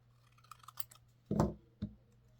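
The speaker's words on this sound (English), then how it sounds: "I think I'm going to cut this one off." A small paper Christmas decoration is cut off for a holiday book box shadow box, with a few light taps and rustles, then a close, crisp snip followed by a second shorter cut, with no talking.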